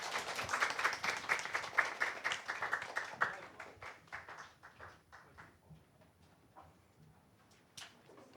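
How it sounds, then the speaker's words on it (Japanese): A church seminar audience claps to welcome two speakers, a brisk burst of many hands for about three seconds that thins into scattered, slowing claps and then stray taps. "拍手を持ってお迎えしましょう。"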